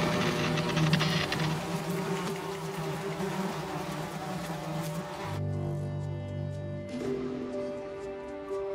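Flies buzz inside a contemporary artwork, a dense close drone of many wings that continues throughout, thinning abruptly about two thirds of the way in before swelling again.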